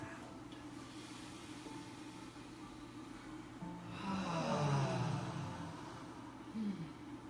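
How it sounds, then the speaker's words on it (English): A group exhales a deep breath aloud together during a guided prayer at a Sunday service, a swelling, breathy rush that rises over a few seconds and fades, with a smaller second breath near the end, over steady room hum. "Let's just take a deep breath, and as we exhale, release with sound."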